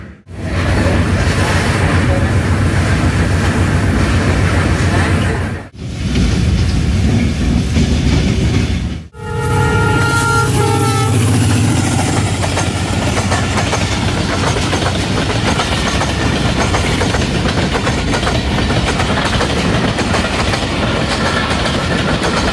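Zikriya Express passenger train running on rails, a steady loud rumble with clickety-clack wheel rhythm, briefly interrupted twice by short gaps, with a horn-like tonal burst midway and faint talk underneath.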